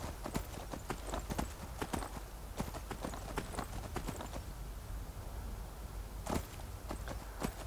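Horse hooves clip-clop steadily as a horse is ridden in Skyrim, a quick regular trot with occasional louder hoof strikes, fairly faint and with no talk.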